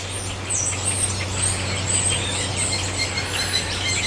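Birds chirping and calling continuously from nests in a nearby tree in the morning, a busy mix of high tweets and trills over a steady low hum, with no one talking.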